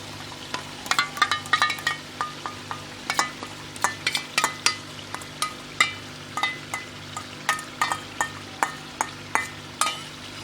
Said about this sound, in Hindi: और इसको हिलाते जाएंगे 2 मिनट तक लो फ्लेम पर, ताकि ये दही पट ना जाए इसमें।